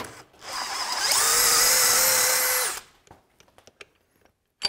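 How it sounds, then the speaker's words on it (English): A power drill whines loudly for about two seconds while drilling into metal on a 1955 Buick Special, pitch steady and high, then cuts off, leaving faint clicks and a sharp knock at the end. "I'm gonna do my best to not drill all the way through"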